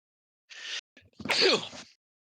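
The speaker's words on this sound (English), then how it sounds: "Bless you." A single close, sharp human sneeze with a short inhale before it, in a quiet room during a commentary stream for a Smite Demi-God finals match.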